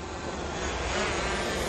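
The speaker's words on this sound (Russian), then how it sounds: "Вова настраивает здесь, чтобы дрон следил за Сарой сейчас" Camera drone flying overhead while following a person outdoors, a steady broadband whirring buzz that holds at an even level throughout, with no voices.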